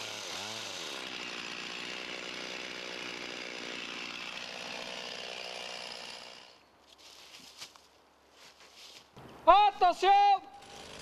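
A chainsaw bores a deep directional felling notch into a tree trunk, running at a loud, steady roar for several seconds before it drops away. Scattered handling noises follow, and a voice speaks near the end.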